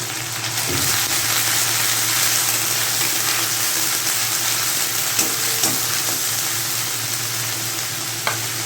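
Ground tomato, onion and garlic paste sizzles loudly and continuously in a hot pan for an egg, potato and capsicum dish, with a few soft utensil taps near the end and no talking.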